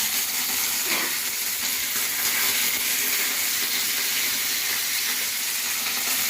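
Curry leaves dropped into hot oil for an egg curry give a steady, loud, close sizzle and hiss that holds throughout with no voices.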